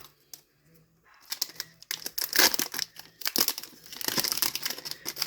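Crinkly foil wrapper of a Pokémon Chilling Reign booster pack being torn and opened by hand, a run of close, sharp rustles and rips after a brief quiet start.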